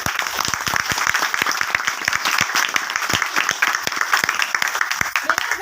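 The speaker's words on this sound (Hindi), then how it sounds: "एक बार जोरदार ताली।" Audience at a motivational talk breaking into applause, with sharp individual claps standing out against a busier crowd clapping throughout, fairly loud and close.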